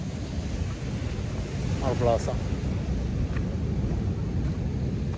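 Wind blows steadily outdoors on a warm day at Tigert, a constant low roar and rumble buffeting the microphone, with a person speaking briefly near the middle.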